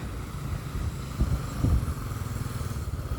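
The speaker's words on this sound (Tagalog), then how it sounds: "Tabi muna tayo kasi may motor na dadaan." A motorcycle on a village lane in a Philippine neighborhood passes close by with a low, rumbling engine drone that swells briefly in the middle against steady outdoor background noise.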